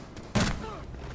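A single sharp gunshot in a video game, one brief loud crack with a short decaying tail, heard against quiet background game ambience.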